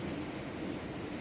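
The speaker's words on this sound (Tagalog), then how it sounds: "Ang lakas ng ulan dito guys," Heavy rain pours steadily by a choppy sea on a cold day, a dense, loud, continuous wash of drops with no break across the short stretch.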